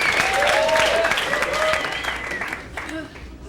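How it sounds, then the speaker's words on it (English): Comedy showcase crowd applauding a comedian as he comes on, a busy round of clapping with whoops and chatter that is strongest at first and eases off over a few seconds. "Big round of applause. Give it up for him"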